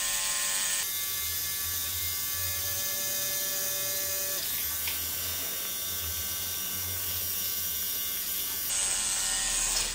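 A tattoo machine runs continuously while lining, a close steady electric buzz with a low hum underneath and a brief change in tone midway.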